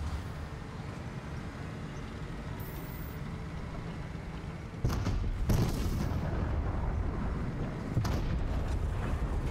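A tank turret firing in a Fortnite match, heavy booming blasts that cut in over a low rumbling engine drone, with a couple of loud hits in the second half.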